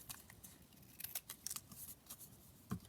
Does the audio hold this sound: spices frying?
no